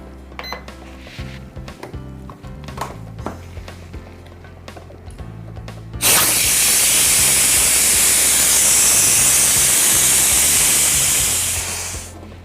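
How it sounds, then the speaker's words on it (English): Steam hisses loud and steady for about six seconds as a pressure cooker of beans for hummus vents at the top, cutting in abruptly after quieter kitchen sounds and tapering off at the end. "with the pressure cooker, here's what I'm gonna do. I'm gonna release the pressure right at the top"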